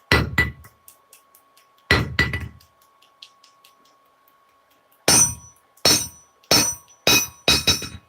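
Harbor Freight hammer striking a hard surface: two separated heavy blows followed by a quicker run of five sharp, ringing metallic strikes, loud and close with no talk.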